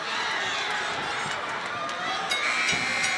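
An MMA crowd roars steadily in a large arena, urging the fighters on in the closing seconds, a constant wash of cheering and shouting with a commentator talking over it.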